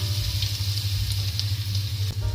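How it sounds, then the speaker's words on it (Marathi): Cumin and mustard seeds sizzle in hot oil with minced garlic and green chili, a steady close crackling hiss over a low hum, with no talking. "तेल छान गरम झालेलं आहे। 1 चमचा जिरे, 1 चमचा मोहरी, लसूण हिरवी मिरची बारीक केलेला 1 चमचा"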